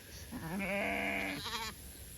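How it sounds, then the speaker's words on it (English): A ewe bleats once on a farm, a close, loud, wavering call lasting about a second and a half with no talk over it. "There's a ewe."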